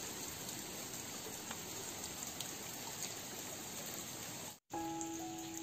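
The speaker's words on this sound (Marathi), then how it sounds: "तर पाऊस पण खूप पडतो" Heavy rain falls steadily beside a river creek where shell clams are gathered, a dense continuous hiss that stays even throughout, broken by a brief cut near the end and a faint tone afterward.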